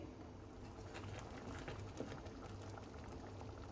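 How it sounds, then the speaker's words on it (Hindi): Ragda, a white pea curry, boils in a pot, giving a soft, steady bubbling and a low simmering rumble. The sound is faint and continuous, and no one speaks. "अब इसे हम बॉईल कर लेंगे, अच्छे से पका लेंगे।"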